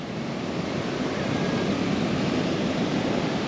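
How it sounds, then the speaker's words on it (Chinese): Heavy typhoon-driven surf pounds the coast at Fuguijiao, Taiwan's northern tip, a dense continuous roar of breaking waves mixed with wind buffeting the microphone, no voices. "今天海浪很大"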